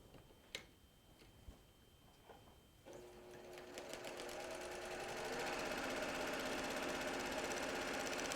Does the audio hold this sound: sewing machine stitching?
yes